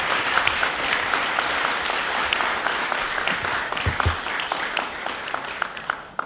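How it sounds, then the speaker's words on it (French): An audience at a debate competition applauds steadily, a dense wash of many hands clapping that holds throughout, with a few sharper individual claps standing out and almost no talk. "nous allons écouter le ministre de la Citoyenneté, sous vos applaudissements bien sûr."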